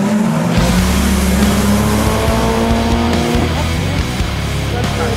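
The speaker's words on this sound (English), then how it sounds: "Little Mitsubishi Evolution. Nice ride right there" A Mitsubishi Evolution drag racing down the track, its engine roaring loud and steady with rising revs and tire noise close by, filling the whole stretch without pause.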